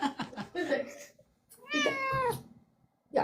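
A pet cat gives a long, clear, close meow, with people talking briefly before and after it.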